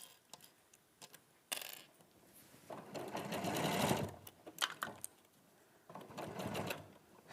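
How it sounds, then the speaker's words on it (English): Sewing machine stitching a seam with a walking foot, several bursts of rapid needle clatter separated by quiet pauses and stray ticks, close and moderately loud, with no voices. "I also tend to sew with my walking foot on a lot of the time"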